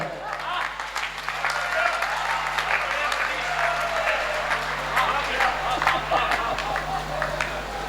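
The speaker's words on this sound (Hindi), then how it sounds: "आप ताली बजा" An audience at a poetry recital at the Kajli fair breaks into sustained applause, dense crowd clapping that stays loud and steady for the whole stretch, with a low hum beneath and no clear speech on top.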